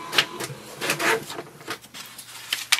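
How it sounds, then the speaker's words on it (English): An HP Tango printer prints a status report, making close irregular clicks, short whirs and soft sliding paper-feed sounds, fairly quiet and without speech. "It will print a printer status report"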